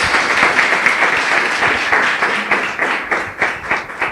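Loud, close clapping from a church congregation during a prayer service, a rhythmic run of hand claps in pulsing waves, with no talking.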